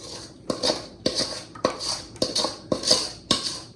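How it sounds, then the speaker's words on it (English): Wooden spoon stirring custard made from eggs in a pot for Cuban-style natilla, scraping in a steady rhythm of about six strokes, each a bright clatter against the metal sides, close and clear with no talking. "you really have to be stirring the entire time with the wooden spoon"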